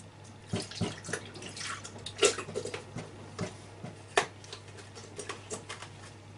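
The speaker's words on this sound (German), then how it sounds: "da geben wir jetzt 300 Gramm Sahne dazu" Cream poured from a container into a Thermomix mixing bowl while preparing potato gratin, a soft, quiet liquid trickle with scattered small drips and clinks in a calm kitchen.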